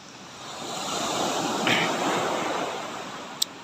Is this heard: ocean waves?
yes